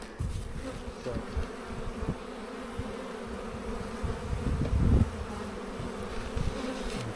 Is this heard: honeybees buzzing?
yes